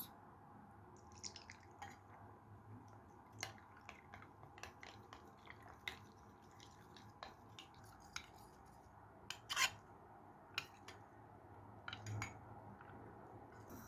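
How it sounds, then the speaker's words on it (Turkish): Half a cup of milk stirred with corn starch in a glass for oven-baked Turkish rice pudding (sütlaç): faint, irregular spoon clinks and soft scraping taps against the glass, close by and quiet, with no talking. "Yarım su bardağı sütümüzü güzel bir şekilde karıştırıyoruz"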